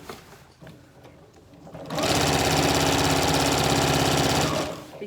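A sewing machine stitches a 1/4 inch seam through three layers of fabric on a Yup'ik qaspeq, starting after a quiet moment and running as a loud, steady, rapid mechanical whir for a few seconds before stopping.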